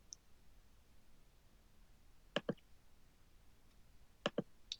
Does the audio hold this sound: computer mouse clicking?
yes